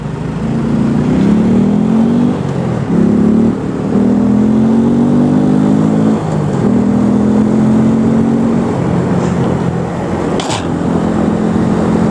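A motorcycle rides through city traffic after a green light, its mid-pitched engine droning loud and close with steady revving rises and brief dips as the rider shifts, with surrounding traffic noise beneath.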